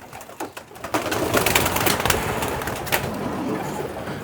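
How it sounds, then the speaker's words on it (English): Loft pigeons cooing nearby, a steady murmur of soft calls with a few brief rustles and flaps; no one speaks. "I'd really like to get these group of pigeons."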